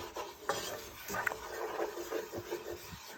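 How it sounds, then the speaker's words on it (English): Flour being stirred into a pan for a roux for turkey Swedish meatballs, with repeated scraping strokes and light metallic clinks of the utensil against the pan, no talk. "You're just going to want to just mix this all up"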